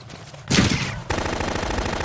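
A loud burst of rapid automatic gunfire in Metal Gear Solid 2 kicks in after a brief quieter stretch and keeps rattling steadily to the end, like a video game submachine gun.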